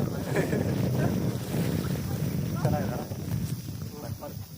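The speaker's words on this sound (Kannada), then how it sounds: "ಕೋಲ್ಡ್ ಗಾಳಿ" Gusty wind roars and buffets the microphone, a steady rushing noise with voices talking faintly underneath.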